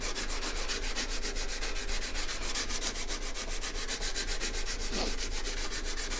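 A chisel is honed back and forth on a 400 grit sharpening stone, a steady rhythmic scraping with regular strokes that continues throughout, close and fairly quiet, with no talking.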